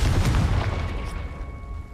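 A deep booming blast from the Confringo blasting spell in the video game Hogwarts Legacy, loud and close, opening with a heavy low thump that rolls off into a fading rumble, without talk.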